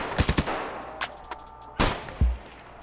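Gunfire from a scoped weapon in Escape From Tarkov: a quick triple burst of sharp cracks, then scattered single shots and a heavy nearby report with a deep thump near the end, loud against a quiet backdrop.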